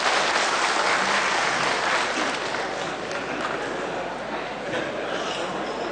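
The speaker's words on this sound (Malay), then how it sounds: "Tepukan kepada dia." Audience at a FELDA convention applauding, a dense, steady wash of clapping from a large crowd that holds for several seconds before easing slightly.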